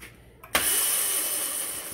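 Razor MX650 electric dirt bike motor spins up abruptly as the throttle is pulled, settling into a steady high-pitched whine that holds at a constant level.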